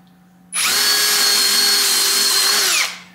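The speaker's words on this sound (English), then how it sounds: "I'll just angle this drill bit in." A drill bit grinding the belly carve and forearm cut into a wooden guitar body on a CNC setup runs steadily and loudly for about two seconds, then winds down, with no talk.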